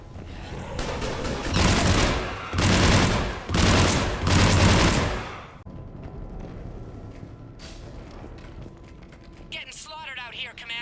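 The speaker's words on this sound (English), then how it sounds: "Foxtrot and Bravo are taking heavy fire." Heavy battlefield gunfire from Mass Effect 3 roars in several loud, sustained automatic bursts, then drops to scattered shots and mechanical clatter, with voices talking over the combat.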